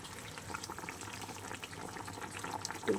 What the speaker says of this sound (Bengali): চলো আমি আর একটু ফুটিয়ে নিই, তারপরেই আমার রেডি হয়ে যাবে একদম তেলাপিয়া মাছের ঝোল